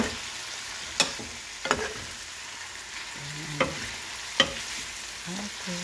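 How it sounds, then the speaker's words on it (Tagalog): Onions for bistek sizzle softly in a pan while a utensil scrapes and clacks against it in occasional sharp strokes, the frying hiss steady underneath. "Para maluto-luto na lang yung onions."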